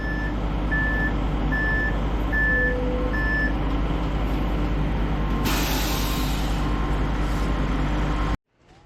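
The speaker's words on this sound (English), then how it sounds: "Well, here comes the second truck." A concrete truck arrives at a building site on the Big Island, Hawaii, its loud rumbling diesel engine under a repeating reversing beep, followed by a hiss of air brakes before the sound cuts off.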